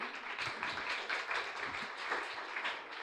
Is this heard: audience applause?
yes